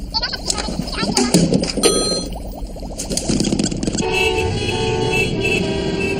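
Car horns honking in a street scene, with bright toots and ding-like tones layered over a busy background and some voices.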